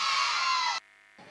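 Audience at a school cultural event, Summer Blossom 2019, breaks into loud cheering and clapping, a dense roar of voices and hands that cuts off abruptly after under a second, leaving quiet.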